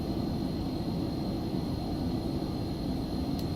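Phenom 300 business jet in X-Plane 11 climbing after takeoff, a steady, even broadband engine roar with a faint high whine, continuous and unchanging.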